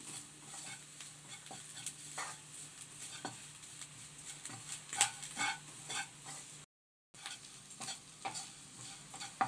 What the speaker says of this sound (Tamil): ஈரம் இல்லாமல் நல்லா வறுத்துக்குங்க